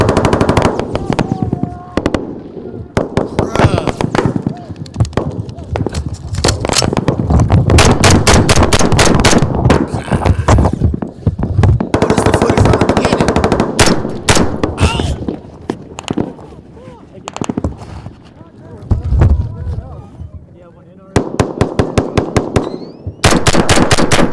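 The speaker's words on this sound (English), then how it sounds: "started taking some pretty accurate fire" Gunfire in combat footage comes in loud, close bursts of rapid automatic shots separated by short pauses, with heavy thumps throughout.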